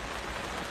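Outdoor rain falls in a dense, continuous hiss, brief and fairly loud, with no voices.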